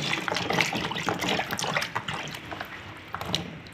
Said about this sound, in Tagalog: Yan ating banlawan para malinis guys.